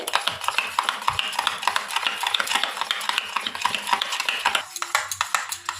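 Sour yogurt whisked briskly in a bowl, a dense run of quick scraping, clinking strokes close by, steady and rhythmic for several seconds with a brief slowdown near the end.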